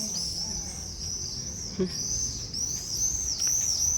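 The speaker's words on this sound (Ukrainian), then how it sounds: "А птахи, птахи літають." Birds call along a tree-lined evening boulevard in Zaporizhzhia, a thin high repeated chirping over soft background ambience, fairly faint and continuous, with no voices.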